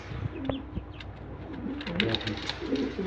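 A pair of black checker racing pigeons coos in soft, repeated throaty bursts, close by, with faint rustling and light background noise between calls.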